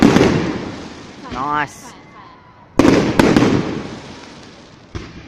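Christmas fireworks bursting outdoors, loud sharp bangs and crackles arriving in separate clusters with a whistling launch between them, while a person comments briefly.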